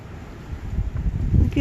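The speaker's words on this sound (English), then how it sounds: "I don't know if you can hear the wind." Wind blows outdoors on a gusty day with trees tossing nearby, heard as a low, steady rumble buffeting the microphone that swells louder toward the end.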